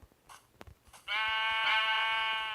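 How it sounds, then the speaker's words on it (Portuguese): Minecraft sheep bleating as it is punched to death by hand: a quiet stretch of faint clicks, then one loud, sustained, wavering bleat close up that fills the rest of the moment. "Eu tô matando a ovelha com a mão, sendo que eu tenho espada."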